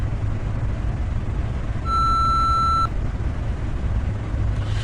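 A single steady electronic beep lasts about a second, loud and clear against a low, constant background hum.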